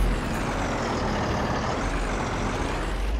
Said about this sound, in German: Ja, das ist die Motorbremse